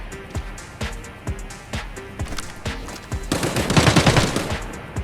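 Gunfire in the shooter Arena Breakout: Infinite: several sharp single shots spaced about half a second apart, then a dense, louder automatic burst near the end.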